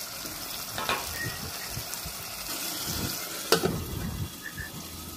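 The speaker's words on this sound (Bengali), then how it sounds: "এখন মাছগুলো দিয়ে ভালো করে কষাবো।" Tengra fish are stir-fried with green chilies in a hot pan, giving a steady close sizzle with occasional scraping and stirring knocks, one sharper clatter near the middle.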